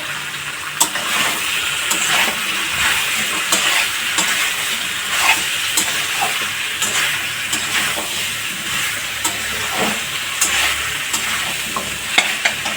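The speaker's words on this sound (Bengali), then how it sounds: "সজনে ডাঁটা দিয়ে একটু কষাবো।" Moringa drumsticks being stir-fried in a pan, with a steady close sizzle and repeated scraping strokes of a spatula running throughout, and no talking.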